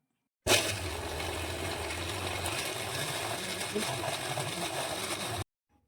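A mixer grinder grinding meat whirs loudly and steadily for about five seconds with a harsh, rattling buzz, then cuts off abruptly to silence.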